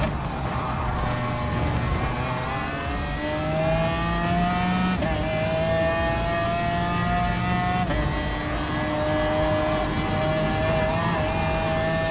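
A race car in Gran Turismo Sport laps Lago Maggiore in a manufacturer series event, its engine whining loudly through rising and falling gear changes as it accelerates, brakes and shifts, with other cars nearby and no talking.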